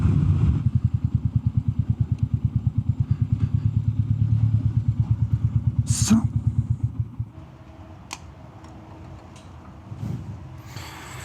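A Royal Enfield Meteor 350 motorcycle engine, on a solo road trip, thumps in a rapid, even pulse close by for about seven seconds, then cuts out, leaving quieter clicks and faint background noise.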